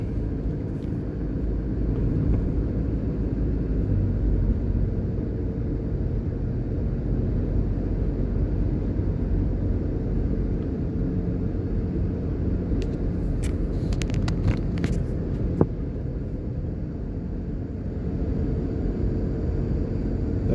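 A car drives along a road toward Kingston's Norman Manley International Airport in Jamaica, with a steady, loud interior engine and road rumble throughout and a brief cluster of clicks and rattles near the end.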